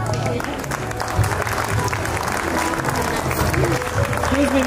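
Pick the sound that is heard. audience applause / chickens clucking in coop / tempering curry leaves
audience applause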